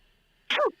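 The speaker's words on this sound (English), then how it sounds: "Someone sneezed then, bless you if you did." A single short sneeze bursts out in an otherwise quiet room, fairly faint and a little distant.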